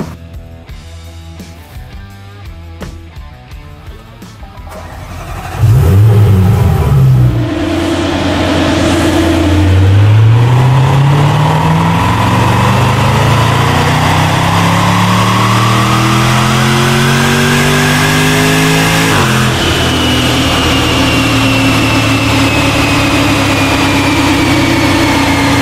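A Range Rover SVR with a Quicksilver exhaust revs on a dyno, rising from a rough idle into a loud, sweeping climb through the gears with strong, rising engine tones, close and continuous.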